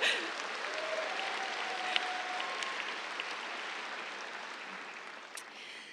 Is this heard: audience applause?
yes